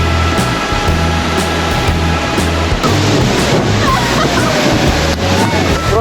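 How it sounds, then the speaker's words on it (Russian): A boat runs into the roaring water of Iguazu Falls in the Argentine jungle, with a loud, continuous rushing torrent, a steady motor drone underneath and voices mixed into the din. "мы влетели прямо в этот водопад"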